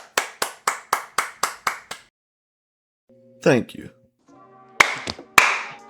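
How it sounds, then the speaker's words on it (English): Sharp hand claps in a steady run of about eight, then a short burst of a brighter, rattling sound and a few more scattered claps, close and loud, with a voice speaking briefly. "Please, hold your applause"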